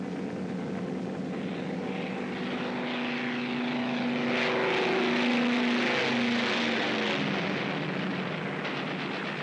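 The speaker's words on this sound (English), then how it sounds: "Bombers are approaching the target." Propeller engines of WWII bombers approaching a target drone in a loud, continuous, throbbing roar whose pitch slowly shifts as the aircraft pass close overhead.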